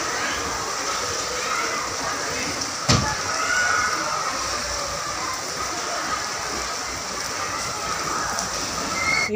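Heavy monsoon rain seen from a home balcony pours in a steady, dense hiss with scattered splashes and one sharp knock, while faint voices murmur in the background.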